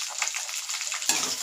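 About 200 grams of garlic dropping into hot oil with curry leaves, a crackling sizzle that jumps louder near the end as the cloves hit the pan.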